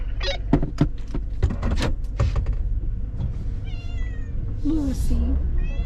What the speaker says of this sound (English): Oh, the angry cat.